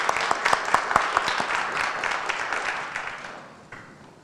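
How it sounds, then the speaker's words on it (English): Applause from an audience at a Board of Education public meeting, a dense wash of many hands clapping with a few sharper nearby claps early on, gradually thinning and fading toward the end. "Please join me in one more round of applause."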